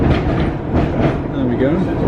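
An Island Line Class 484 train running on rails, a continuous rumbling roll with rhythmic clickety-clack under faint voices, heard from close by.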